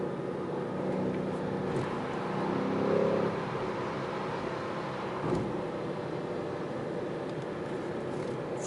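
A 2020 BMW M8 Competition with a 625 hp engine pulls under full throttle from speed. The engine note is a muffled, steady roar heard from inside the cabin, swelling briefly and then holding, with no voices.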